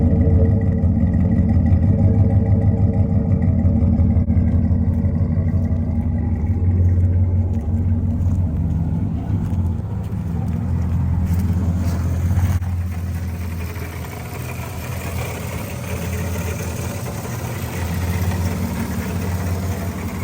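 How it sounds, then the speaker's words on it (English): A 4-wheel-drive Chevy Silverado Z71 pickup engine runs steadily after a ground repair, a loud, continuous low rumble with an even idle throughout and no talk over it. "So I guess now we're gonna hear what it sounds like."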